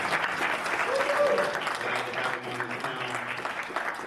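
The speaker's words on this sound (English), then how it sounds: "So if you guys could give my man Jay a big round of applause." An audience applauds at a geek convention panel, a steady wash of clapping close by that lasts the whole four seconds, with a few voices and cheers mixed in.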